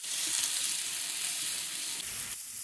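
Roughly chopped onions lightly roasting in ghee for Hyderabadi egg salan sizzle with a constant soft hiss and small crackles, moderately quiet and uninterrupted.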